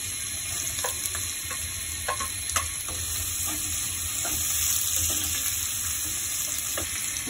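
Tomato fries with egg and shrimp in a pan for vegetable noodles, giving a continuous close sizzle. Intermittent spatula taps and scrapes punctuate it, and there is a steady high-pitched hum in the background.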